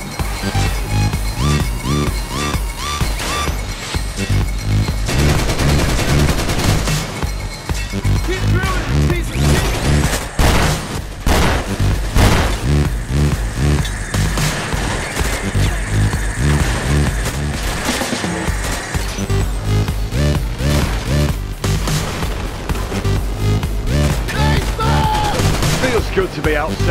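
Dense, continuous gunfire and explosions from the PayDay 2 heist game's Hoxton Breakout Day 1 mission, with rapid bursts, heavy booms and crashes layered over a constant loud backdrop of combat noise and music.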